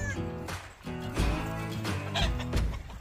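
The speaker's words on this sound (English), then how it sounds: "That's a half chicken, half guinea, I think." Barnyard fowl, a chicken and guinea fowl cross, clucking and calling in loud, harmonic bursts close by, with outdoor noise around them and no speech during the calls.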